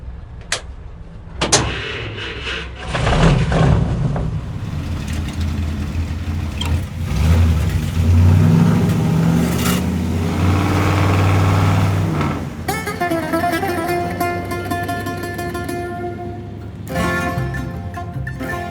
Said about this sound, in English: My truck, it's a 1957 Ford F100.